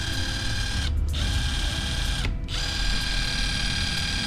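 Bosch GDR 12V-EC cordless impact driver running steadily in gear 1 with a wood-and-metal drill bit, a continuous close motor whine with two brief dips where it pauses, no talk.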